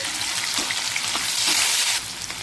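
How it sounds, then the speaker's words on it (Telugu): Mustard seeds crackle and sizzle in hot oil during tempering for a palak dal, a steady close frying hiss with scattered pops and no voices. "ఆవాలు చిటపటలాడితేనే బాగుంటాయి."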